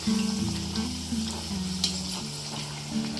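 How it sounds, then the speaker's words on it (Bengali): Aloo puri made from potato and wheat dough fries in hot oil, a continuous close sizzle and bubbling with small crackles and pops, no talking. "এই রকম একটু লাল লাল করে ভালো করে ভেজে নেবেন"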